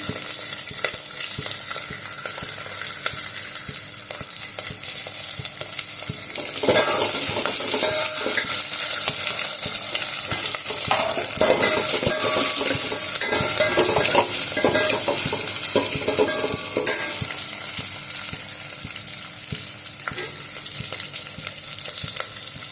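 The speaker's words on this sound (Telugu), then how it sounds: "ఇప్పుడు ఉల్లిపాయ వేసేస్తున్నాం" Onions frying in oil for drumstick sambar, a steady close sizzle that swells midway as they are stirred, with spatula scrapes and light clinks against the pan and no voices.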